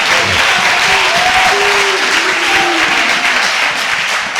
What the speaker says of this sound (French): On acclame puissamment le Seigneur Jésus.